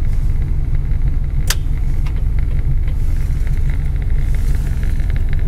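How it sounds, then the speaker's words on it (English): Heater blower motor of a 1949 Ford coupe running inside the cab, a loud constant low rumble and hum holding steady with a faint click early on. "Blower motor works on low and high."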